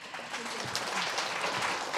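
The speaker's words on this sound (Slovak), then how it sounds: "Šetrite si potlesk." Audience applause fills the room at a live Slovak event, a steady, dense wash of clapping held at an even level for the full two seconds.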